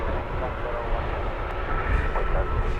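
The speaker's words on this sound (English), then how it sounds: "2 Wizz Air making their way to the runway" Wizz Air airliners taxiing toward the runway at London Luton Airport, a steady broadband jet engine rumble held at an even level throughout, with a faint rise near the end.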